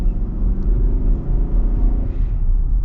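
The V8 engine of a 2024 Nissan Armada SUV accelerates, a deep, steady rumble heard from inside the vehicle with a low growl throughout.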